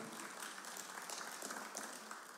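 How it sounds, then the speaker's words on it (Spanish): A church congregation applauds during a sermon, a faint but steady wash of many hands clapping without pause for a couple of seconds, heard from a distance. "Démosle un fuerte aplauso al Señor"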